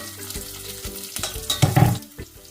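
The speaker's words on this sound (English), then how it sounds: "Saute all these ingredients for few seconds." Crushed garlic, green chili and hing sizzle and fry in hot oil with mustard seeds and cumin for a dal tempering, crackling steadily and swelling louder midway with stirring, no voices.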